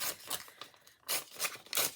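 A strip of packaging being torn by hand in a few short, rasping rips, quiet and close, with a brief pause midway and no talking.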